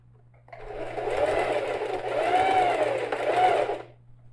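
A sewing machine stitches a backpack seam in a close, steady run of about three seconds, with a brief slowdown midway for a reverse stitch.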